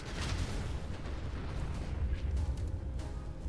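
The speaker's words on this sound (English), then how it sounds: "You sort of tanked that explosion." Explosion in Fallout 4, a dense, rumbling blast with crackling debris and booming low end, sustained and fairly quiet throughout.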